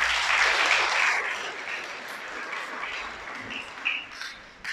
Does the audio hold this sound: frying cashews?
no